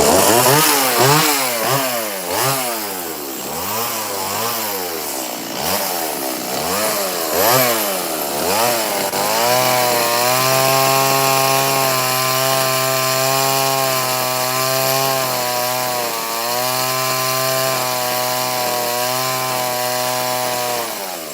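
Chainsaw carving wood outdoors: loud, close engine revving in rising and falling bursts at first, then settling into a long sustained high-pitched whine as the chain bites, with brief dips in pitch, no talk over it.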